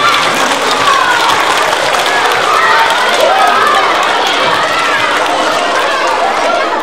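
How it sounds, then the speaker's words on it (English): Applause from a school assembly audience at a fire safety event, a dense, steady wash of clapping from many hands that fills the whole stretch with light chatter mixed in. "Give yourselves a nice round of applause to help us fill the bag"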